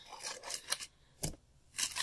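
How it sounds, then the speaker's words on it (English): Scissors snip and rustle in a few short, crisp bursts close by, with quiet pauses between. "Here's some scissors."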